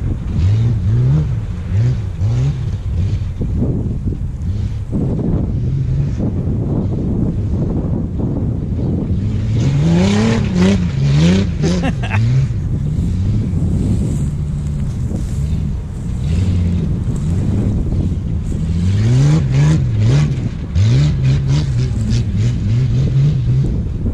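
An LS1 V8-swapped AE90 Corolla racing a dirt motokhana, its engine loud and close, revving repeatedly in rising and falling bursts with wind buffeting the microphone throughout.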